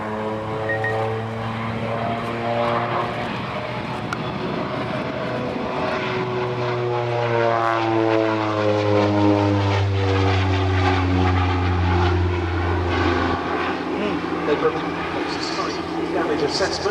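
A North American Rockwell OV-10 Bronco twin-turboprop flies past at an airshow, its steady propeller drone loud and continuous, pitch sliding downward as it passes, with a voice talking over it.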